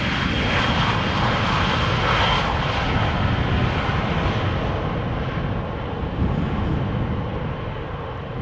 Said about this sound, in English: Meanwhile, Transavia flying in. Going to the center runway.